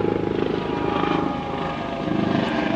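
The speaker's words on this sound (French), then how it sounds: "hélicoptère militaire." A military helicopter passes overhead, its loud, steady rotor chop throbbing rapidly and evenly throughout with no voices.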